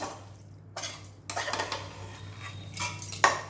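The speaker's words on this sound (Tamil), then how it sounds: "ஸ்டவ் ஆஃப் பண்ணிவிட்டு கலக்கி விட்டுடலாங்க" A ridge gourd dish stirred in a pan with the stove switched off, light metallic scrapes and clinks of a spoon against the pan in short irregular bursts, fairly quiet.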